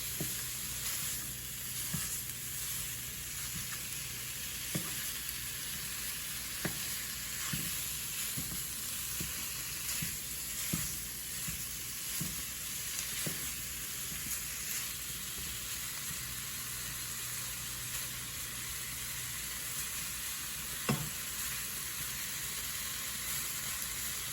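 Ground meat for soft shell tacos fries in a pan with a constant close sizzle, punctuated by regular scraping taps of a utensil breaking it apart.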